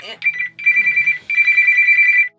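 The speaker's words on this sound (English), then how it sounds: "a phone call. Let me see who it is." A telephone rings loud and close for an incoming call, with a warbling electronic tone in two long bursts separated by a brief gap.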